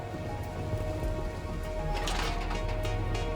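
Steady rain from the video game Endzone A World Apart, a continuous even patter with no voices over it.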